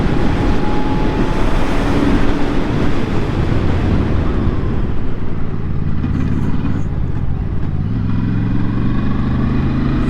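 A QJ SRV600 V4 four-cylinder custom motorcycle slows under its rear brake, its loud engine note gradually dropping in pitch beneath strong, steady wind rush.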